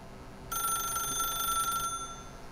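A telephone rings in The Stanley Parable video game, a single steady electronic bell tone held for over a second, loud and clear against quiet room ambience with no talking.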